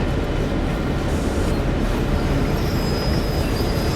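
A freight train locomotive in the Train Sim World 2 game runs at half power on the Clinchfield Railroad, a steady dense rumble with rolling noise and a faint high whine, no talk.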